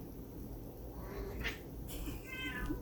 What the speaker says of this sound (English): Yeah, kitty scream.